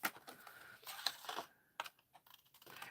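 Scissors snip through a paper Christmas craft piece along an embossed outline, a run of short crisp cuts in quick irregular bursts, close and clear, with brief pauses between strokes.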